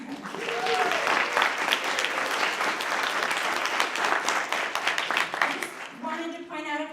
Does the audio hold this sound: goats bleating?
no